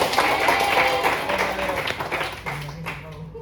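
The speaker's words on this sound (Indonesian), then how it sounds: "tepuk untuk Leon" Students in a classroom clap together in a brief, dense round of applause, close and loud, with voices mixed in as the clapping fades.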